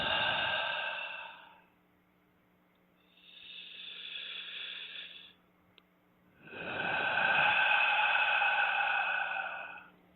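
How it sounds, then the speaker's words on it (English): Three slow, deep breaths taken during guided meditation, each a long, close, breathy rush of air separated by quiet pauses, with no talking. "you'll take 5 specifically deep breaths"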